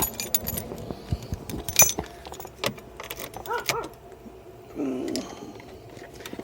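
Car keys jangling and clinking as the key goes into the ignition of a Honda Fit, a series of close metallic rattles and taps, loudest early, with no one speaking.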